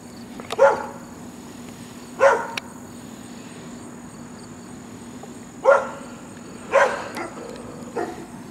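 A dog barks several times at a distance from a pepper garden, single sharp barks spaced irregularly, over a faint steady hum of insects.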